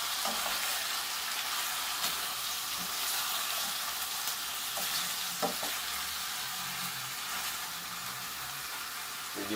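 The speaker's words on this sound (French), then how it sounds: "On va prendre les tomates et les rajouter." Tomatoes added to a pan of frying Guadeloupean djon djon rice, with a loud, steady sizzle and occasional stirring clinks, no talking.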